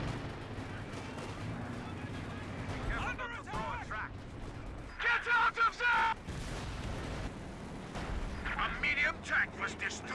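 Gunfire and heavy artillery blasts destroy a tank in a real-time strategy game, with repeated booms and rattling shots layered under dense battle noise and voices speaking over the action.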